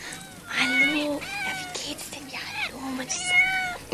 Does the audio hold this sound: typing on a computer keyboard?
no